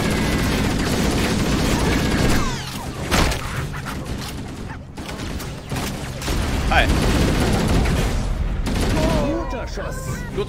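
Dense bursts of rapid gunfire and explosive booms from the shooter game Halo CE Anniversary, loud and continuous with brief lulls, a voice speaking over parts of the firefight.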